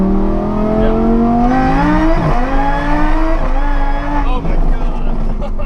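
An 800hp Lamborghini engine roars loud and close as it accelerates hard, its pitch climbing steadily with two brief dips at gear shifts, while people exclaim over the noise.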